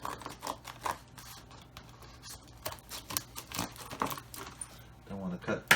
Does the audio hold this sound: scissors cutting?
yes